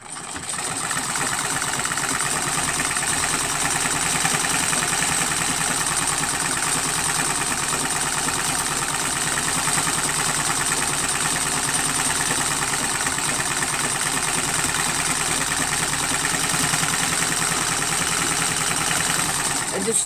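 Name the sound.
sewing machine stitching a strip quilt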